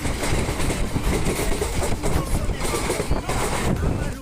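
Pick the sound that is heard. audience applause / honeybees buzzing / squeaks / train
train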